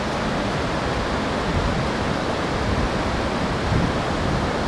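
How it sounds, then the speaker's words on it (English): Pacific Ocean surf at Rockaway Beach, Oregon, near Twin Rock: a steady, loud broadband wash of breaking waves with no pauses, heard close from the shoreline. "First time for them to be in the Pacific Ocean here."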